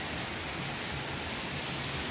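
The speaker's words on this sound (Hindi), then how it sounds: "देखो आप लोग कितनी ज़्यादा बारिश है" Heavy monsoon rain pours in a dense, loud, unbroken hiss throughout, with no voices.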